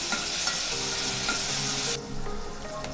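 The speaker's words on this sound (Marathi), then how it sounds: "त्यामध्ये आलं लसूण आणि मिरचीची पेस्ट काढून घेऊया आणि मिनिटभर परतून घेऊया" Ginger, garlic and green chili paste sautés in about two tablespoons of hot oil in a kadai, giving a dense continuous sizzle with stirring. It drops a little in level near the end, close and with no voices.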